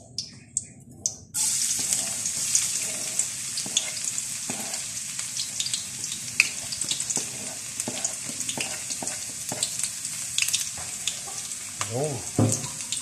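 Garlic and onion hit hot oil and sauté for chicken feet asado, a sudden loud sizzle that settles into a steady hiss with scattered clinks and stirring scrapes, faint talk occasionally beneath.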